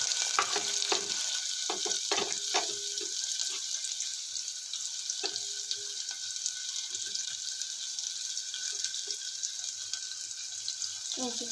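Onion pieces fry in hot oil for a tomato and ladyfinger curry, giving a continuous bright sizzle with occasional stirring clicks and scrapes of a ladle, steady and moderately close.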